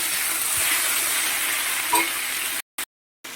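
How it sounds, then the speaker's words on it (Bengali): Boiled soybean chunks fry in a pan with a steady, loud broadband sizzle and the scrape of stirring, ending in a brief abrupt cutout near the end. "সয়াবিনটাও একটু ভাজা ভাজা করে নেব"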